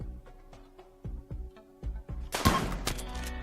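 Rapid gunfire from a RimWorld skirmish: a string of evenly spaced single shots crackles along, then a denser burst of overlapping shots closes the passage, fairly quiet overall.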